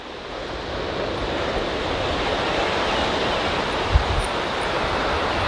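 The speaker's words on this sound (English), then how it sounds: "That is one mean ocean." Ocean waves breaking steadily below the Cape Arago overlook on the cold, blue Pacific, heard as a constant broadband roar of surf with some wind buffeting the microphone and no talk.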